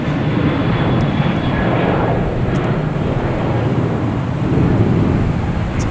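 An American Airlines airliner at Boston Logan Airport produces a loud, continuous engine roar with a rumbling low end, steady throughout, heard up close with no speech.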